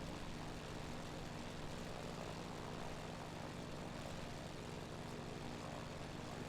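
Steady, droning engine of a light propeller aircraft in cruise flight over Ireland, a continuous loud hum with constant pitch and no breaks throughout.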